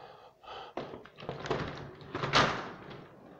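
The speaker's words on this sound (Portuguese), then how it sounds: "Tá, eu vou abrir a porta." A house door opens with a short run of knocks, clunks and handle rattles, ending in a louder thump, heard up close in an indoor room with no talking.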